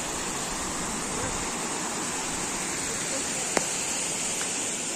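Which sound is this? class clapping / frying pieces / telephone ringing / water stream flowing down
water stream flowing down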